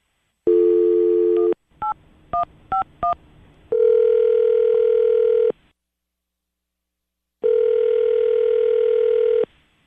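A telephone ring tone sounds in long steady bursts, interrupted by a quick series of dialing beeps, then two more long rings with silence between.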